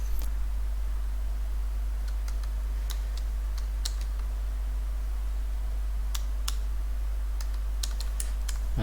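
Keys tapped on a computer keyboard in short scattered bursts of sharp clicks, close, over a steady low hum with no voices.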